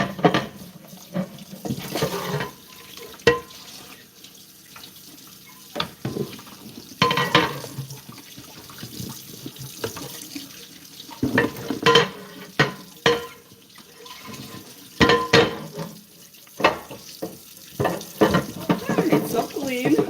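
Water runs from a tap into a sink for rinsing, coming in irregular splashing bursts with pauses between them, close and fairly loud, while someone talks intermittently.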